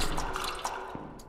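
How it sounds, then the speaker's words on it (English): Water pours onto plants in a video game, a brief, close splashing and dripping trickle over just over a second, fairly quiet. "we gotta water the plants"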